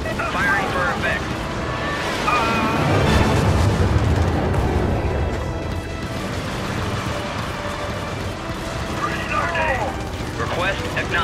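Orbital artillery barrage in Helldivers: a continuous rumbling roar of distant explosions and booms swells through the middle and then eases, with voices talking over it.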